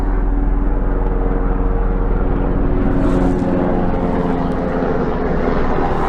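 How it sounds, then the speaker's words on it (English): Helicopter flying overhead, a loud steady rotor and engine drone with a rhythmic low beat that holds close and constant throughout, swelling slightly in the second half. "It was a helicopter."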